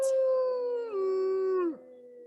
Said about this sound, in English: So I let out a howl and everybody's got to let me know where they're at.